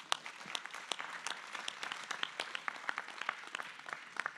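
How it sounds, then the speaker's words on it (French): A small crowd claps steadily at an agricultural technology competition, the sharp, scattered hand claps continuing for several seconds without talking. "On peut vous applaudir."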